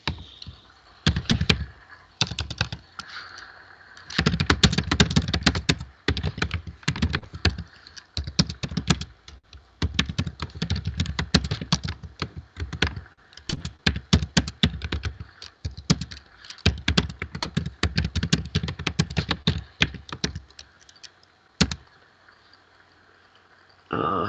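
Fingers type on a computer keyboard in dense bursts of fast clicking separated by short pauses, close and fairly loud, with a person speaking at times.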